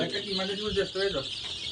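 Four-day-old farm chicks peep and cluck in a poultry shed, a busy close chorus of short calls, with a voice talking alongside.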